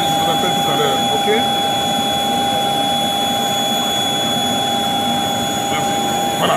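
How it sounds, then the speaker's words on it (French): Aircraft engines whine and roar steadily on an airport tarmac just after landing, with a loud constant drone and a high tonal hum under nearby talking. "Donc là, je suis sur le tarmac, on vient de descendre de l'avion."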